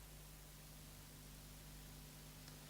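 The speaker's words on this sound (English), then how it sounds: "white noise, you'll remember, contains a whole range of frequencies. This is what it sounds like" Steady broadband white noise plays alone as an electronics demonstration, an even, continuous hiss at a constant level with a faint low hum beneath.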